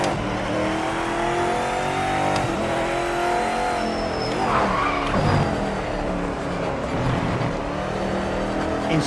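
A race car engine roars steadily at high revs in the video game Project Motor Racing, with tire squeals and shifting pitch as it drives hard, loud and close throughout.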